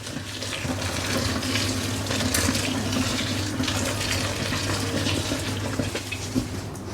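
Tap water runs steadily into a kitchen sink while fresh nettles are rinsed under it by a gloved hand, a continuous close splashing hiss with faint clatter throughout.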